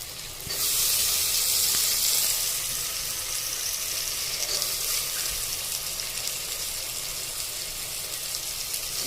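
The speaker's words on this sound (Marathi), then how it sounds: "छानपैकी आता मस्त परतून घ्यायचं आहे" Onion, tomato, peas and potato sautéing in a pan for masala khichdi, a continuous close sizzle and hiss that starts abruptly and holds steady throughout, with no voices.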